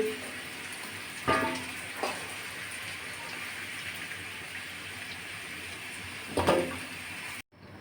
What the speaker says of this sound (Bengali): নাড়াচাড়া করে লাল লাল করে ভেজে নেব